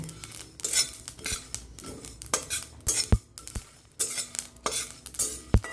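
A utensil stirs and scrapes panch phoron whole spices frying in a pan, giving repeated close clinks and scrapes in an irregular rhythm over a soft sizzle.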